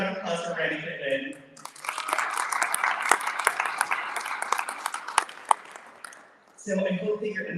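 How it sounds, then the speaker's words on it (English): A meeting audience at a San Diego Pride leadership event applauds Randy Pittman, a sustained burst of clapping that fades out, with a voice talking before and after it. "So another round of applause for Randy Pittman."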